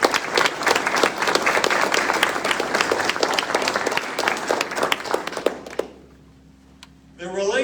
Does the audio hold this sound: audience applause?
yes